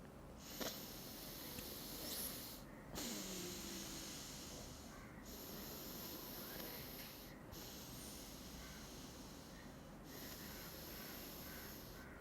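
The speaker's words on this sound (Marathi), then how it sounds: "डाव्या नागपुडीने श्वास घ्यायचा आहे श्वास सोडायचा आहे" Soft, slow breaths drawn in and let out through the left nostril while the right one is held shut. The faint airy hiss comes in a few steady cycles with short pauses between them.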